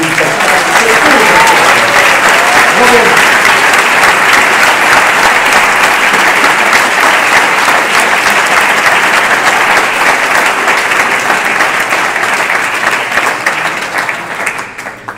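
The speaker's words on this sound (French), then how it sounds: "j'aimerais que vous les applaudissiez tous, ces membres de la communauté" A large audience applauds school community members at a label award ceremony, loud continuous clapping that holds for about fifteen seconds before fading at the very end, a few voices faintly under it.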